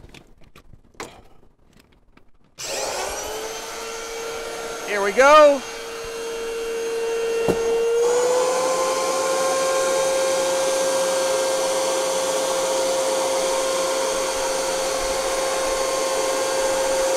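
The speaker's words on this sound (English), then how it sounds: "I'm getting ready to switch the heater with the vacuum cleaner now." A vacuum cleaner used for vacuum forming EVA foam kicks on after a short spoken remark, settling into a loud, steady whining drone whose pitch shifts partway through and then holds.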